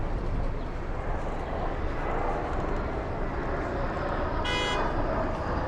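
A car horn toots once near the end, a short bright honk rising over steady, loud street noise and traffic rumble at Main Street and Roosevelt Avenue in Flushing, Queens.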